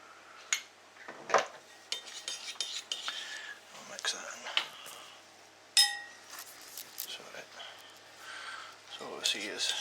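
Clinks and scrapes of a utensil against a bowl as chicken is mixed with spices for tandoori chicken, irregular light metallic and glassy taps scattered through the stretch, with a voice talking over them.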